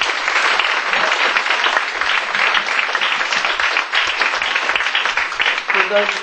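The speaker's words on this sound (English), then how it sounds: "Let's give him a round of applause." Comedy club audience applause for the manager, a loud, dense roar of clapping and cheering that runs steadily throughout, with some voices mixed into the crowd.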